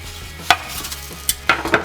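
A baguette is turned in a frying pan, giving a few sharp, close clacks and scrapes over a faint sizzle, with no one talking.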